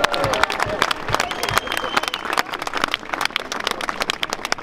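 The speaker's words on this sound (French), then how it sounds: "On applaudit monsieur le maire" A crowd at a citizens' rally outside a town hall claps for the mayor, dense rapid applause with scattered louder claps and some voices, steady and close throughout.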